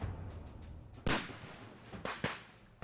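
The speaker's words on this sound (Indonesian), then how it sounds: "suara ledakan mengejutkan mereka, diiringi suara berondongan senjata" A simulated ambush during a UN peacekeeping police training exercise, with a sharp blast followed by a few quick gunfire cracks, moderately distant over a quiet outdoor background.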